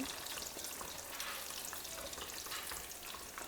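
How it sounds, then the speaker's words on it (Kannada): Brinjal pieces fry in hot oil in a pan, a dense, even sizzle that holds steady throughout at moderate distance, with no voices over it. "ಇವಾಗ ಬದನೆಕಾಯಿನ ಹುರ್ಕೋತಾ ಇದ್ದೀವಿ"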